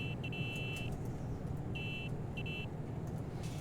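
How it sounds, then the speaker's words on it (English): A thin, feeble car horn gives several short, high-pitched beeps in bursts over steady road and engine noise inside a car driving from Germany to Manchester. "It's a very pathetic sounding horn."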